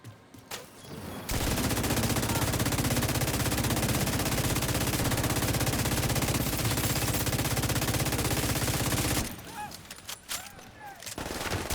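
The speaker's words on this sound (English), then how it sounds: "am I getting shot at?" Sustained rapid automatic gunfire in The Division 2 video game, a loud dense burst of rattling shots lasting several seconds, followed by scattered quieter shots and in-game effects.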